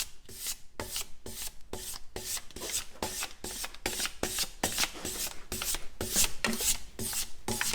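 A blacksmith hones an inshave, a curved scorp-type blade, on 800 grit abrasive in rapid, steady rasping strokes, close and fairly quiet, each pass a short gritty scrape with no talking.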